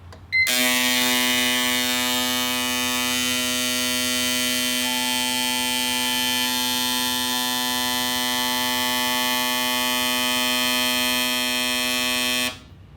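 A fuel injector test rig running on E85 gives a steady, loud electric buzz. It starts abruptly, holds one unchanging tone for about twelve seconds, then cuts off.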